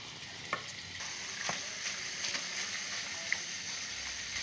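Meat frying with garlic-ginger paste in a pan: a steady, close sizzling hiss broken by a few sharp scrapes and clicks as it is stirred, with no talking.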